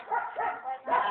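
Pet dogs at home giving short yips and whimpering barks in three quick bursts, close by, mixed with people talking.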